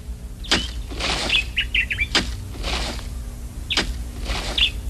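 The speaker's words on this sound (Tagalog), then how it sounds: "Yung kumakantang ibon, hindi niyo ba naririnig ang huni niya?" A songbird sings in a garden with repeated bright chirps and short trills spaced about a second apart, fairly close, over a low steady background hum.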